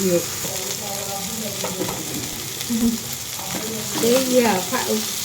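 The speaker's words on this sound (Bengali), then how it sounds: "সেইখানে কিছু রুই মাছ দিলাম একটু ভাজি করে নেই" Pieces of rohu fish fry in oil in a pan, giving a steady sizzling hiss beneath a voice that rises and falls throughout.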